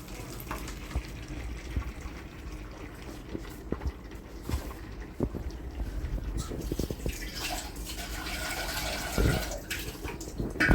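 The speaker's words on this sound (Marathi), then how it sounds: "थंड पाणी टाकायचं" Cold water pours into a metal pot in a home kitchen, with uneven splashing and scattered clinks of utensils that grow into a fuller rush of water near the end.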